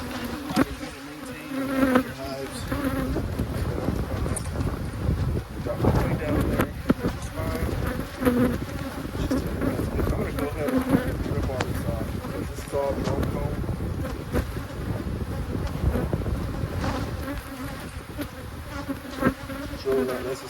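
Honey bees swarming around an opened abandoned hive, a dense continuous buzz close to the microphone with some wind and occasional handling noise, no talk.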